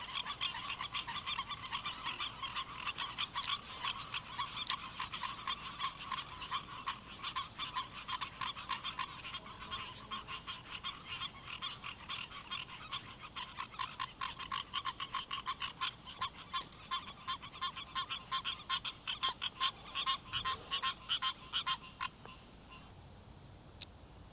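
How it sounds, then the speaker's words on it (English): A chorus of frogs croaks together at night by the water, dense rapid clicking calls pulsing continuously for over twenty seconds at moderate distance, with no voices. "all the frogs just went off together"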